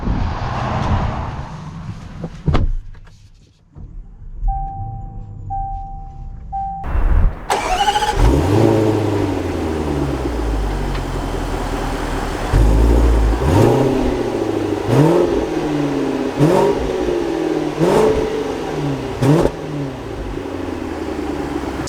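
A 2021 Land Rover Range Rover SV Autobiography starts with a sharp engine catch, then idles and pulls away, its engine rising and falling through several loud revving gear changes as it drives, no talk.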